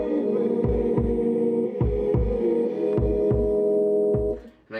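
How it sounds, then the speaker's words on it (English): Kick drum in a produced track beats out a heartbeat rhythm in doubled thumps, repeated at a steady pace over a sustained synth hum, with the music cutting off at the end. "the kick, same kick, but the rhythm is replicating a heartbeat"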